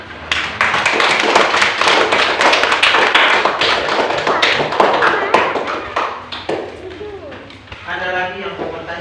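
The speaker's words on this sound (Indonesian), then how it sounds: "Mari kita beri tepuk tangan dulu." A third-grade elementary class claps hands together in a quick, loud, uneven burst of many small hands that fades out, followed by faint voices.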